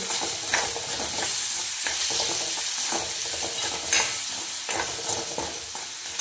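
Spiced dal mixture with garam masala and salt is sautéed in a pan, giving a steady close sizzle broken by repeated scraping stirs every second or so; no one speaks.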